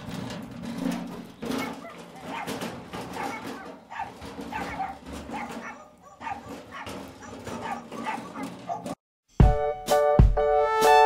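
Dogs bark and yip repeatedly in quick bursts, fairly close, with whimpers mixed in and a brief gap near the end.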